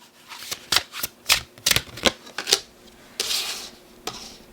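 Tarot cards being shuffled by hand in a series of crisp, riffling bursts, close and fairly loud, with a longer softer sweep of cards near the end and no talking.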